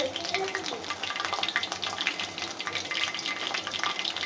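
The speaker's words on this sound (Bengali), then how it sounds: "আমি অল্প জালে আস্তে আস্তে করে ভেজে নিব সবগুলো।" Food frying slowly on low heat, a dense, steady bubbling sizzle that stays close and even throughout, with faint voice-like sounds in the background.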